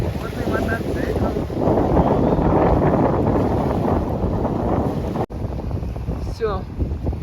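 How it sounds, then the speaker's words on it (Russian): Sea wind blows hard across a beach at Yevpatoria, a loud, roaring buffet on the microphone that barely lets up, with a brief cut partway through and indistinct voices in the background. "Ветер дует с моря."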